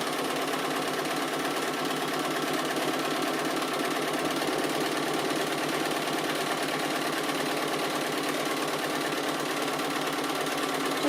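A sewing machine stitches fabric appliqué around the edges of a circle, a steady rapid mechanical whirr and patter heard close up and running without a break.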